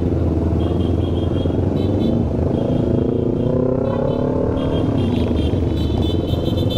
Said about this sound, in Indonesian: Bakalan padat kendaraan nih boy.